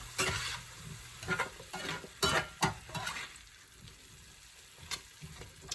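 Shrimp and mixed vegetables stir-frying in a pan, with repeated scraping and tossing strokes over a steady sizzle, close and moderately loud, with no talking.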